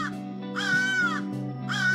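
A crow caws twice in the video game Randal's Monday, two loud drawn-out harsh calls about a second apart over a steady low background hum, with no talking.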